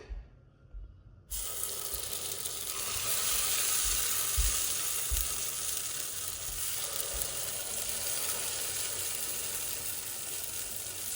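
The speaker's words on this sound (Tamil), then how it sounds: "சட்டி சூடாயிட்டது நல்லெண்ணெய் விட்டுருக்குறேன் இப்போ கொஞ்சம் கொஞ்சமாக மாவை விடுவோம்" After a moment of quiet, a sudden loud sizzle bursts out and continues steadily as gundu dosa batter fries in hot sesame oil in a pan, with faint clinks underneath.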